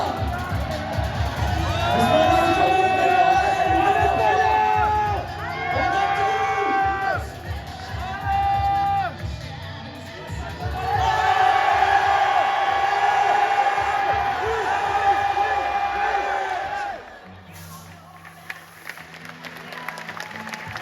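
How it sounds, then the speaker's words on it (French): At a strength-athletics competition, a large crowd claps and cheers loudly in sustained waves with whoops and shouts, swelling twice before dropping off abruptly near the end. "Un tonnerre d'applaudissements"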